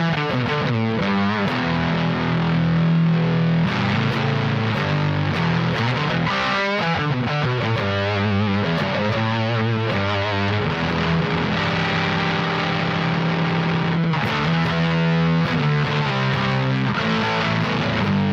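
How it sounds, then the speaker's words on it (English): Electric guitar played through a Ritual Devices Grimalkin fuzz pedal, thick saturated distorted chords and sustained notes ringing loudly and continuously with a hissy fuzz texture, no talking. "I'm going to start dialing the fuzz in."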